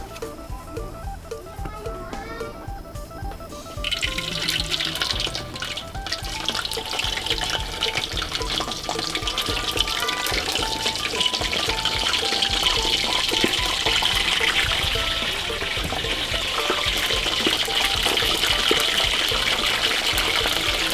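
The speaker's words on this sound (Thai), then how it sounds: "น้ำมันร้อนแล้วใส่ปลาทูลงไปทอดได้เลยค่ะ" Fresh mackerel hits hot oil in a pan a few seconds in and a loud, steady sizzling crackle takes over, continuing with soft background music underneath.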